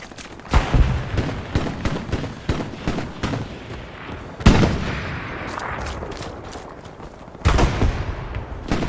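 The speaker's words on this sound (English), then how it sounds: "The sniper is here with us now. Yeah, that's the shot that I just heard." Loud rifle report, likely a sniper shot, amid ongoing gunfire and explosions in the World War II shooter Hell Let Loose at night in Foy: sharp cracks near 0.6, 4.5 and 7.5 seconds over constant distant battle rumble.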